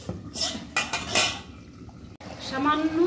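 Metal clatter of a pot lid being set onto a pan while tilapia and prawn curry cooks: several sharp clanks and scrapes close by, a brief pause, then a softer clink, with faint talk underneath.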